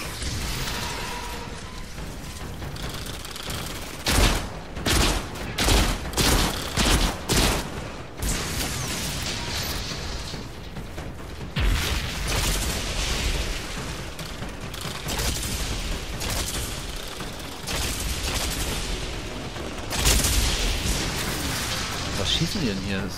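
Gunfire and explosions in the video game Outriders, with rapid bursts of shots and booming blasts recurring through the stretch, loud and close while players talk over the action.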